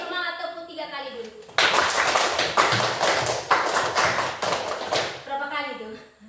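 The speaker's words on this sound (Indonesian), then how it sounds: "Kalau semangat tepuk 3 kali dulu." Third-grade primary school pupils clap in quick unison bursts in a classroom, a few sharp rounds of applause-like claps between a teacher's spoken lines.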